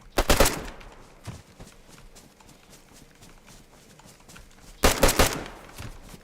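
Gunfire in the survival game DayZ comes as two short bursts of rapid shots, one at the start and one near the end, with quieter sounds between.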